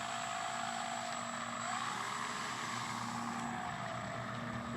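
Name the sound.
RC Dynam Tucano model plane taxiing with propeller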